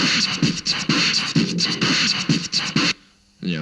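A vocal kick drum recorded into a loop station and played in reverse produces a looping pattern of swelling, sucked-in thumps in a steady rhythm, loud and close, that stops briefly before restarting.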